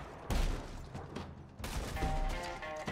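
Shotgun blasts in Red Dead Redemption Online, several heavy booming shots firing in quick succession amid other game noise, loud and close with a short lull between bursts.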